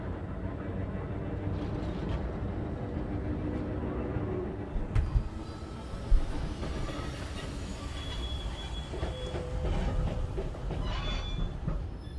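A tram rolling along its track in the video game Cronos: The New Dawn, a loud continuous rumble with clicks and faint metallic squeals as it moves.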